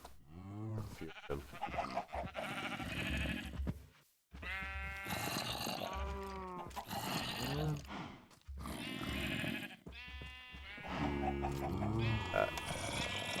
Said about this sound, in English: Listening to my cows.